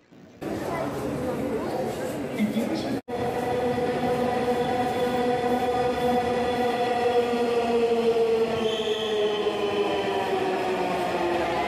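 A Dhaka Metro Rail train rumbles steadily throughout, with a continuous whining motor tone and rolling clatter heard from inside a carriage, voices faint beneath.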